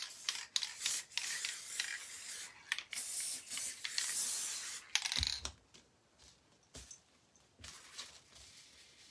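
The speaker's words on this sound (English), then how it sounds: "Spray and glitter on the same plate." Aerosol spray hissing onto a small handmade primitive snowman ornament, several bursts of varying length with short pauses, close and fairly loud, then quieter rubbing and handling sounds.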